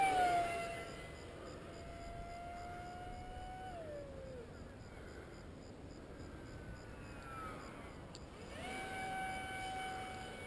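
An RC Saab JAS-39 Gripen EDF jet on its maiden flight, at full throttle in cruise, gives a steady whining ducted-fan tone. The pitch dips and fades as the jet passes away, then rises again as it returns.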